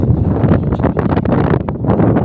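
Strong wind buffets the microphone in a loud, continuous low roar with gusty surges.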